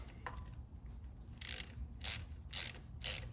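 Four clicking ratchet bursts, evenly spaced and fairly close, as a socket wrench tightens a bolt on a Yamaha Blaster 200 engine during a rebuild, each burst a short run of pawl clicks over a low background hum.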